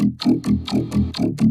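A vocal run through a vocoder driven by a Serum synth, with distortion, stereo widening and reverb, gives a robotic, chopped pattern of about six short pulses in quick even rhythm, loud and close.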